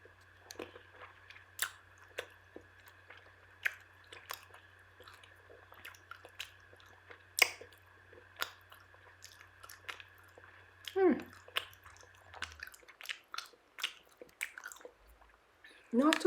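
Close bites and chewing of Ritter Sport dark chocolate with hazelnut, with irregular crunchy clicks and soft squishy chews repeating over a faint steady hum.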